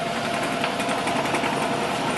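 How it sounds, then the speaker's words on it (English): An electric-converted chipper shredder running with no load, a steady, loud high-pitched motor whine and mechanical hum that holds constant throughout. "My chipper shredder is alive."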